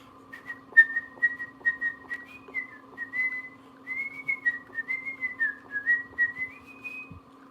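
Someone whistles the Pirates of the Caribbean theme steadily for several seconds, the notes gliding and wavering, over a constant low electrical hum.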